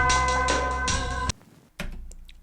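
Hip hop music sample played dry with no effects in FL Studio for a sample-based beat, a dense sustained loop that cuts out abruptly, a short near-silent gap, then resumes.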